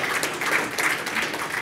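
Brief, steady applause from an audience at a farm succession planning producer panel, a dense wash of many hands clapping for the presenters, lasting under two seconds.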